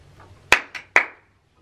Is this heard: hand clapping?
yes